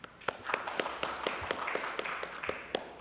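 Audience at a Kakao policy seminar on its COVID-19 white paper clapping to welcome a speaker, a thin, scattered applause of separate hand claps in a hall, fairly quiet and steady for a few seconds.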